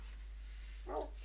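A single short dog bark in Minecraft, faint against a quiet, steady background.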